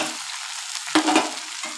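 Ivy gourd fries in a pan with chili powder and turmeric, giving a steady sizzle with scraping stirring strokes, one louder stir near the middle, close and alone.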